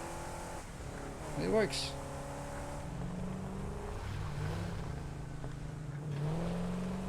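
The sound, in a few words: vehicle driving in Satisfactory, video game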